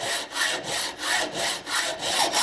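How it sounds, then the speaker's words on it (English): Up close, a hacksaw cuts a brass tube with a steady back-and-forth rasp, about seven even strokes with short pauses between them. The sawing is loud and clear with no speech. "all you have to do to cut this is go back and forth just like you were sawing a piece of wood"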